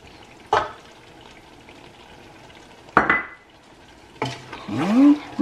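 Egusi stew with mackerel and fish powder being stirred in a pot, with three distinct scraping, clattering strokes of a spoon against the pot spaced a few seconds apart over a quiet background.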